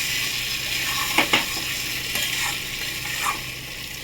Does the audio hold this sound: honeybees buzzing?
no